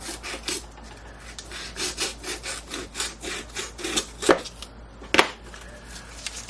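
Tape hanging off the back of a blade is trimmed away during sharpening prep, heard as a steady run of rhythmic scraping, rubbing strokes up close, with a couple of sharper clicks near the end and no talking.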